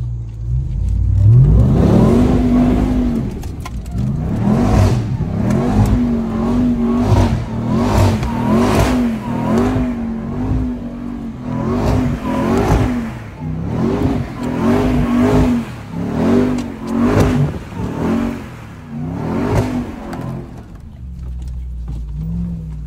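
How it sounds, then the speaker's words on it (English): Engine of a TRX pickup truck off-roading, loud and close, revving repeatedly in uneven surges and drops over a sustained low drone, with no talk. "I did a little off-roading myself already. I'm gonna put those clips in right now."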